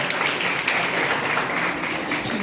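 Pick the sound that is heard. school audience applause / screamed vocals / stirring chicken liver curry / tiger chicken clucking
school audience applause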